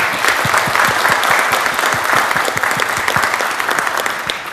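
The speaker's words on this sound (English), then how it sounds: "Let's give them a big round of applause." An audience at a city council meeting breaks into applause, a dense, even burst of many hands clapping, loud and close, continuing for several seconds with no talk over it.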